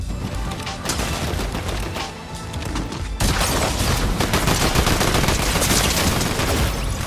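Dense gunfire exchange in a battle royale video game, loud continuous rapid shots and bursts overlapping throughout and intensifying in the second half.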